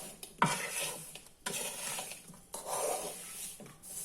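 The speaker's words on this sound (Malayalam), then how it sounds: "ഇങ്ങനെ ഇളക്കി ഇളക്കി ഇത് കുഴഞ്ഞ് പറ്റും." Oil mango pickle stirred in a pan over a low flame: close, rhythmic scraping strokes in repeated bursts, each rasping sweep separated by brief pauses.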